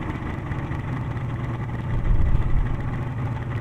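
An 18.5 foot boat's two-stroke engine idles with an uneven, loping rumble, loud and close, swelling briefly midway before settling back, with no talking.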